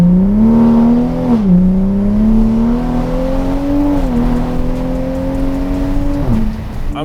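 A Toyota A90 Supra with a burble exhaust tune revs steadily, its engine note rising and dipping in several smooth sweeps, loud and close with no talk.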